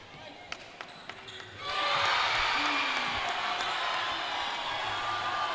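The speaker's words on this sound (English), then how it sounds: "there was a loud cheer on the corner when she made that" A loud crowd cheer erupts from a corner of the arena at a FIBA women's Melanesian basketball game between Solomon Islands and Fiji, rising suddenly after scattered ball bounces and holding as a broad, sustained roar.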